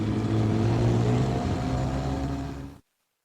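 A steady, rumbling Keeway SR 250 motorcycle exhaust drone while riding, with low harmonic hum, runs continuously, loud and close, then cuts off abruptly into silence near the end.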